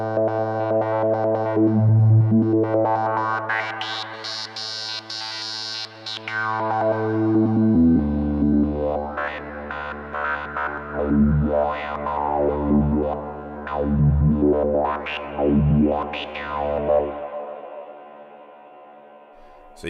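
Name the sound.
Arturia MicroFreak synthesizer with Quantum Fold wavetables, psychedelic texture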